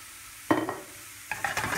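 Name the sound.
chopped onion frying in pan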